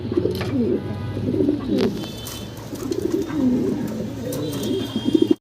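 Fancy pigeons, a matched pair with short beaks, cooing close by in repeated low, throaty rolling phrases with short pauses between, a few faint chirps and light background noise around them.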